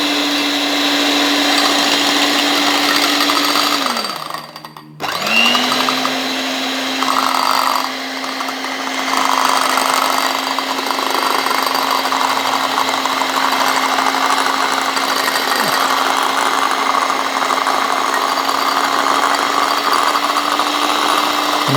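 An electric hand mixer whips dalgona coffee foam made with Nescafe, a steady loud motor whir that dips and stalls briefly before resuming and running continuously at speed.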